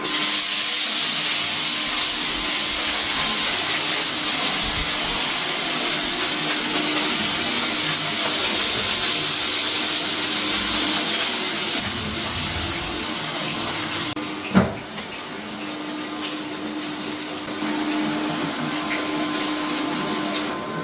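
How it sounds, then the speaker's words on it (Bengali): Rohu fish pieces frying in hot oil for a potato curry, a steady loud broadband sizzle that drops slightly partway through, with one sharp pop or knock near the middle. "এর জন্য প্রথমে মাছগুলো সুন্দরভাবে ভেজে নিচ্ছে"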